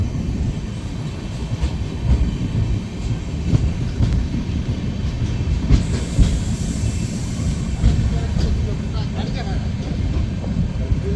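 Brand-new LHB coaches of the Tebhaga Express (13162, Balurghat to Kolkata) rumble steadily along the rails, a continuous loud low roar with faint rhythmic clatter running unbroken throughout.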